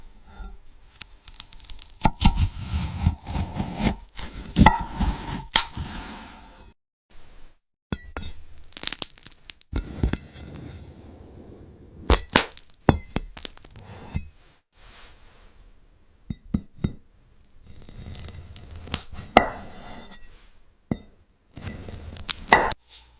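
A knife slicing through glass-like fruit, sharp crisp crunches and crackling cuts in separate bursts with quiet gaps between, close and clear with no voices.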